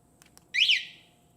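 Two faint clicks, then a loud rising-and-falling electronic alarm chirp sounds once from a Honda Grom motorcycle alarm, sharp and close, fading quickly.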